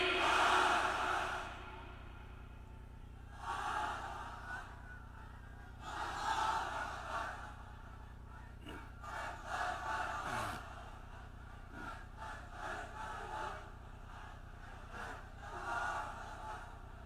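A large crowd at an Islamic religious gathering in Nawabganj, Dhaka, shouts the takbir in repeated loud, reverberant bursts that swell and fade over a steady background hum.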